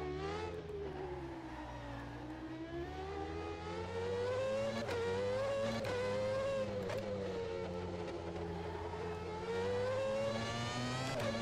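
A McLaren F1 car in the rFactor 2 racing game revs hard in first gear, its engine whine rising and falling steadily with several gear-shift dips, loud and continuous with no talk.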